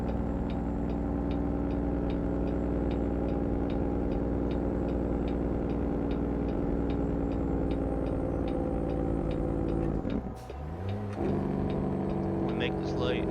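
Truck turn signals click steadily in American Truck Simulator, a fast even ticking over a constant loud engine drone that dips briefly near the end.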